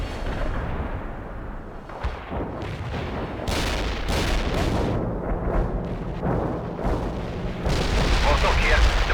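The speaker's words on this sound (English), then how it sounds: "Artillery strike is on the way." Artillery strike from the real-time strategy game World in Conflict, a run of booming impacts and gunfire crashing repeatedly over a steady bed of battle noise, loud and close, with game voice chatter mixed in.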